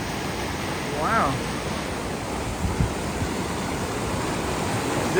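Waterfall at Big Pine Lakes on a mountain hike, heard as a steady broad rushing roar of falling water that fills the whole clip, with a faint chirp and a small knock near the middle.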